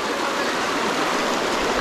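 Water of the Kallar river near Ponmudi rushes past close by in a steady, loud, even roar, with no voices over it.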